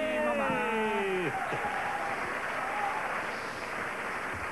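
Audience applause at a Québec variety show, a loud sustained round of clapping from a crowd that tapers slightly toward the end, with a short voice at the start.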